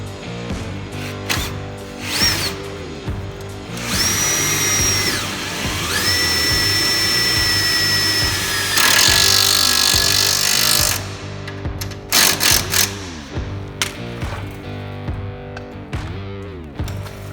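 A power drill drives self-tapping screws into Jeep JKU inner fenders, loud and close, with rising whines that hold for a few seconds each, separated by clanks and handling noise.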